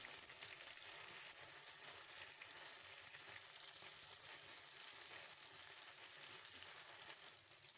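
Bele fish frying in hot oil, a steady, dense, unbroken sizzle that holds at an even level for nearly eight seconds, quiet overall, with no voices.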